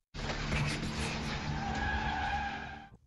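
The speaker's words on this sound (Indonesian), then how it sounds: "membuat Sohyun membantingkan setir untuk menghindari anak yang akan tertabrak" A car skids hard during a swerve in a film action scene, a sustained tire squeal with engine roar that starts abruptly, holds loud and close for nearly three seconds, then cuts off.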